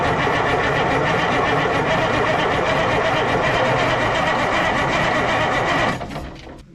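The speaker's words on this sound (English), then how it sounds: "It's got a nice cranking sound to it." A restored Kenworth W900A truck engine with a new, unbled fuel system cranking over on the starter, a loud, fast, steady rhythmic churning close by that runs for about six seconds before cutting off abruptly.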